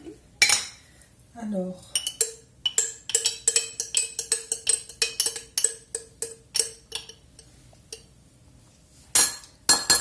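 A small teaspoon repeatedly clinks and scrapes against a mayonnaise jar while scooping out the last of it, producing a rapid run of bright metallic taps up close. A brief voice is heard near the start.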